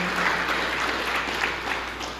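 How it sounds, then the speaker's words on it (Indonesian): A church congregation applauds during a Christian sermon, a steady, moderately loud wash of many hands clapping together across the room, somewhat distant, with no voices over it. "Yang setuju berikan tepuk tangan yang meriah."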